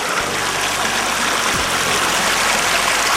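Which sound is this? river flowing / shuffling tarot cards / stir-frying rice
river flowing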